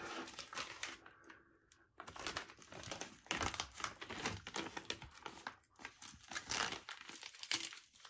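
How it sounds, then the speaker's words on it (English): A clear plastic bag crinkles and rustles close up as a sample tube for a home COVID-19 test is slipped inside, in soft irregular handling bursts. "Next, place the sample tube inside the clear plastic bag."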